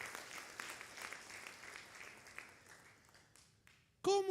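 Church congregation at an anniversary service claps in praise, a sparse, distant patter of applause that thins out and fades, followed by a sudden louder tonal sound at the very end.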